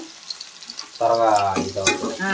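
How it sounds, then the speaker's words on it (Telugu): Onions with salt hit a hot pan and start frying with a sudden sizzle about a second in. The sizzle then crackles steadily at close range with stirring noise, and nobody speaks. "త్వరగా వేగతాయి అన్నమాట ఎర్రగడ్డలు"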